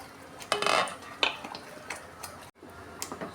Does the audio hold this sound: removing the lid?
yes